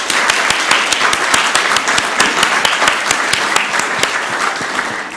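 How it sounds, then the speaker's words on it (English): Audience applause at a city council meeting in Columbus, Georgia: a steady wash of many hands clapping, loud and close, with sharp individual claps standing out throughout. "Let's give them a round of applause."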